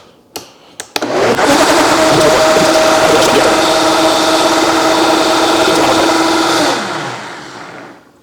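A couple of clicks, then a Vitamix 5200 blender on boost mode, blending a very thick mixture, roars loud and steady for several seconds before winding down.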